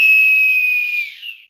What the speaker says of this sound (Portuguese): Apito final no Boleirão de hoje.